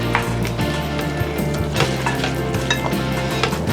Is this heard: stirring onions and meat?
yes